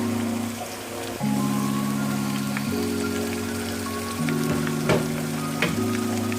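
Ginger garlic paste frying with golden onions in a pan for kadhi pakora, a steady close sizzle and crackle with a few louder pops and stirring scrapes, no voices.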